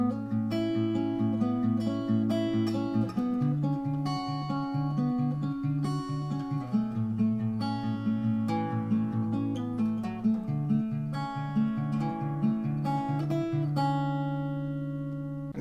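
Guitar plays the intro of a song at regular speed, a steady run of picked single notes and chords, clear and close, with no talking.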